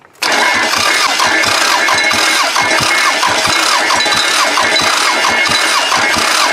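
Toyota Camry wagon engine cranking and firing on a single cylinder, a loud, rough, uneven chugging with irregular thumps that starts abruptly and runs steadily to the end, with no talk over it.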